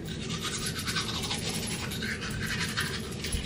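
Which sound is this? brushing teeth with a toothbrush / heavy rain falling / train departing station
brushing teeth with a toothbrush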